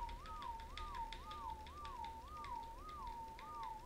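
A repeated rising-falling whistle command in the dinosaur-taming game ARK: Extinction, six identical chirps in steady rhythm over a constant busy background hum, loud and close, with no talking.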